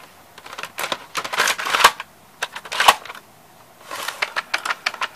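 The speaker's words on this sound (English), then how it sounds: "And it ejects like an 8-track tape" Clicks, whirs and clunks from the tray mechanism of a Magnavox CD4000 CD changer ejecting, close up, with bursts of mechanical rattling separated by short pauses.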